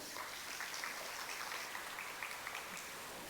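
Audience at a university postdoctoral researchers' meeting applauding steadily for a few seconds, a dense, even wash of clapping heard at a moderate distance.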